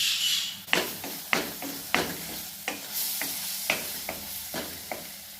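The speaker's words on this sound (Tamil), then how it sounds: "போட்டு நல்லா வதக்கி விட்டு கொஞ்சம் நேரம் விடுங்க" Mushrooms sauté in a pan for fried rice, sizzling softly while a utensil scrapes and taps the pan in a steady series of about a dozen close strokes.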